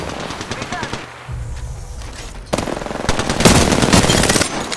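Enemy squad gunfire in a battle royale shooter: rapid bursts of automatic shots, fairly loud, building into denser, heavier firing in the second half, with voices talking over it.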